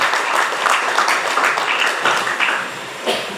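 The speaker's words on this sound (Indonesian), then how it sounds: "Tepuk tangan buat kita semua." Applause from an audience at a 2022 new-student campus orientation (PKKMB), a steady, dense wash of clapping lasting throughout, fairly loud and close with no voices over it.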